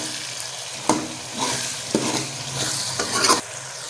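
Green beans and boneless chicken are stirred and mixed in a hot pan, a steady frying sizzle broken by several sharp scraping strokes of the spoon, close and clear with no talk.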